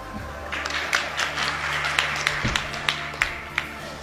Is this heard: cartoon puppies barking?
no